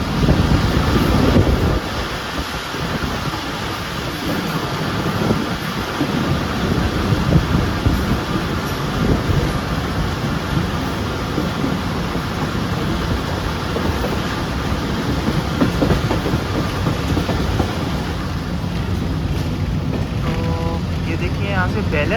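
Shalimar Express train running on Main Line 1 between Karachi and Nawab Shah, heard from on board as a steady, loud rumble of wheels and carriage with wind noise throughout, and faint voices now and then.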